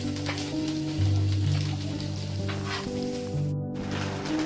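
Dam aloo curry simmers in a pan with a faint, steady sizzle and bubbling that runs unbroken throughout.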